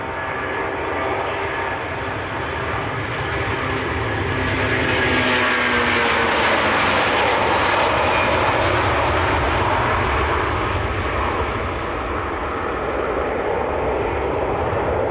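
A Virgin jet airliner bound for New York JFK makes a heavy takeoff from Manchester Airport, its engines a sustained loud roar that swells to a peak mid-way and then slowly recedes, with no voices over it.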